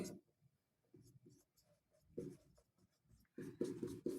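Chalk or marker writing on a board during a chemistry lesson, soft scratchy strokes coming in short bursts with pauses, quiet and close, and no talk over it.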